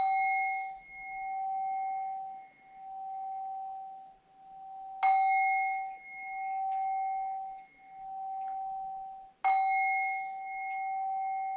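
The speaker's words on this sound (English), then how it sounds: "when you hear the sound of the bell, bringing the practice to a close" Meditation bell struck three times to close a practice session, each clear ringing strike sustaining a long, pure decaying tone that overlaps the next, with no talking.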